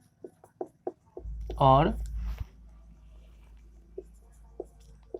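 Pen or chalk strokes write out a Class 10 maths question in a real-numbers lesson, with short taps and scratches scattered across the clip. A teacher's voice briefly cuts in partway through.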